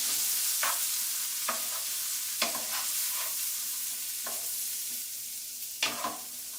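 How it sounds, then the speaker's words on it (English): Peas stirred with garlic in a hot pan sizzle steadily, with several scraping spoon strokes and clinks against the pan standing out over the frying hiss, close and fairly loud. "Just dump them on in here. No measuring. Stir them up a little bit."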